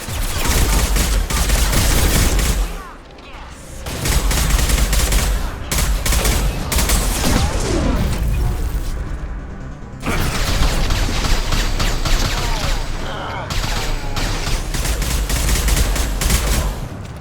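Sustained automatic gunfire from Krogan enemies in Mass Effect 2, loud and close, with dense overlapping bursts and mechanical clatter, briefly easing around three seconds and again near ten before resuming heavy fire.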